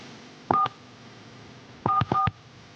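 An answering machine's buttons are pressed: a single short beep tone, a pause, then two quick beeps in succession, loud and close over faint hiss.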